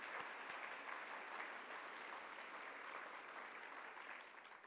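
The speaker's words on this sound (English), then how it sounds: "can we give Carrie and Brandon a warm, warm applause?" An awards-ceremony audience at a local heroes event gives Carrie and Brandon warm, steady applause, a full wash of clapping from many hands that stays even throughout and tapers slightly at the end.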